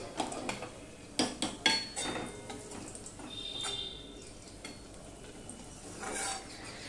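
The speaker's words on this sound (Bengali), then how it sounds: "এবার এটা আমি মিশিয়ে নিলাম।" Vegetable khichuri with potato and carrot is stirred in a pot, the spoon clinking and knocking against the metal in a few sharp, close strikes amid soft scraping.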